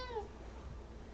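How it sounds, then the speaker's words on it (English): A pet cat named Stripe gives a single short meow at the very start, close and fairly quiet, then trails off into a soft indoor room hush. "My cat seems to think that when I'm streaming stuff is the most perfect time to be loud"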